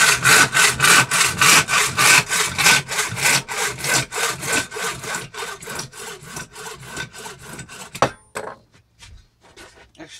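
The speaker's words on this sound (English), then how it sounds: "Let's start with some PVC pipe to see if the saw works or not." A homemade buck saw cuts through PVC pipe in fast, even back-and-forth strokes, loud and close, slowing near the end before a sharp snap as the cut finishes, then quiet.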